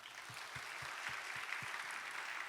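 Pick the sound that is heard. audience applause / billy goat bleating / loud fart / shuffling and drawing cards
audience applause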